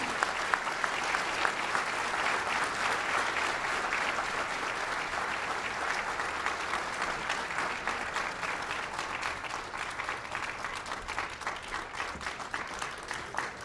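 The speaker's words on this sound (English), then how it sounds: "Please give them one more round of applause." An audience at a coastal symposium applauds steadily, a dense even clapping from a large crowd that carries on without a break.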